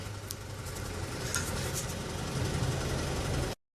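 A cheap Harbor Freight air compressor runs steadily for about three and a half seconds, a constant low mechanical hum with a hissing airy wash above it, then it cuts off abruptly.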